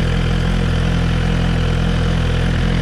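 A new Suzuki GSX-R 1000R motorcycle idles steadily through its first heat cycle, a loud, even engine drone that holds without change, close by, with no voices.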